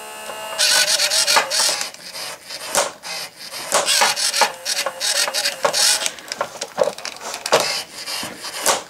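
The small motor driving the mouth actuator of a Big Mouth Billy Bass singing fish toy runs close up. It gives loud, repeated bursts of gritty whirring and clattering in an uneven rhythm.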